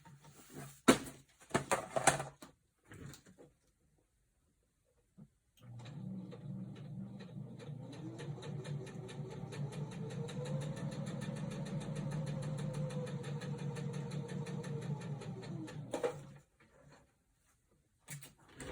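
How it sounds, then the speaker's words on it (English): A home sewing machine running a basting stitch through fabric, with a few short clicks and taps, then a steady mechanical whir that holds for about ten seconds and stops. "So let me do that real quick on my sewing machine."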